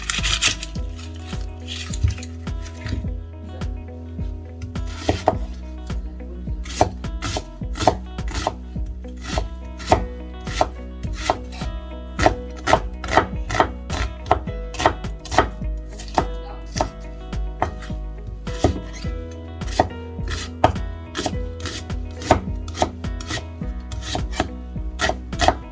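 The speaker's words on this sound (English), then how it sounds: "So first we're going to be cutting up the onions, slicing up in medium size." Onions being sliced into medium pieces with a knife on a cutting board, a steady run of sharp, close chopping taps for the whole stretch with no talking, ahead of cooking a mutton bhuna curry.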